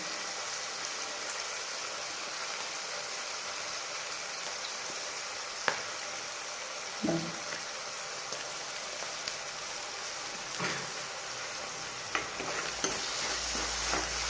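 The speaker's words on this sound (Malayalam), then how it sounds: "നമ്മളിത് ഒരു 2 പച്ചമുളക് കീറിയിടുകയാണ് കേട്ടോ." Slit green chillies fry in a pan for a Kerala-style sardine curry, giving a steady, even sizzle throughout with a few soft clicks of a spoon against the pan.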